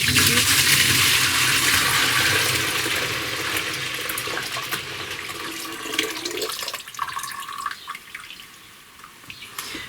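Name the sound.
whey being poured into fresh goat milk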